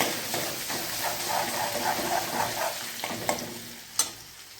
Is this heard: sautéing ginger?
yes